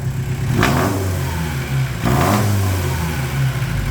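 A VW Rabbit pickup diesel with its fuel screw turned up revs twice in quick succession from a rough, clattering idle, each burst rising loud and close before dropping back.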